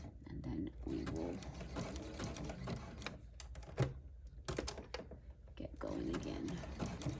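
A hand-cranked sewing machine stitches satin binding onto a stretch fleece blanket topper, giving bursts of quick mechanical clatter. A person talks softly over and between the stitching.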